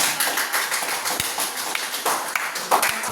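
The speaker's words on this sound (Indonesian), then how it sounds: "beri tepuk tangan kepada kelompok" Applause for a group after its presentation at a teacher training session, a steady crowd of clapping hands throughout, fairly loud and close, with no speech.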